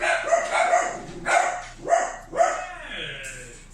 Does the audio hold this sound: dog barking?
yes